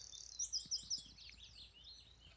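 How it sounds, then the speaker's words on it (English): A bird chirps outdoors beside a rural Irish farmhouse, a quick run of four or five bright close tweets followed by softer twittering, fairly faint against a quiet background. "Oh, bird."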